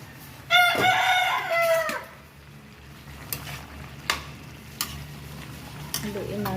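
Sautéed chayote being stirred in a pan, with a rooster crowing loudly nearby at the start, followed by a faint sizzle and several sharp spatula knocks against the pan.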